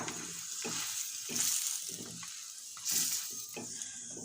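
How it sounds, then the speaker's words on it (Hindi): A paratha fries in refined oil on a pan with a soft, close sizzle. Rhythmic pulses recur roughly every half second, like the bread being pressed or turned, and two brief louder hisses swell up. No one speaks. "मैं रिफाइंड ऑयल से ही सेक रही हूँ"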